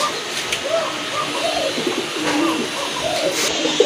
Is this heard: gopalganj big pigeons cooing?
yes